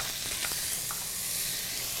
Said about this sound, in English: Now that my skillet is nice and hot, I'm going to quickly add my chicken.